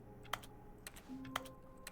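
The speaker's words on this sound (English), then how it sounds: "I'm still typing. Why am I still typing?" Computer keyboard typing in The Stanley Parable video game, a few sparse, light keystrokes spaced across a quiet background with a soft tonal hum; no voices.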